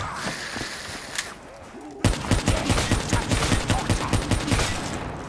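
Rapid video game gunfire in Black Ops 3 Zombies on The Giant map, a steady run of loud, close automatic shots after a quieter stretch of menu-like sounds, with a player talking at times.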